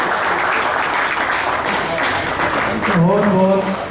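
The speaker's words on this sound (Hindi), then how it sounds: "बहुत बहुत तालियों से स्वागत किया जाए।" Audience applause welcoming people at a wage-agreement gathering at a Mandideep division, a dense wash of clapping that runs throughout while a voice speaks over it near the end.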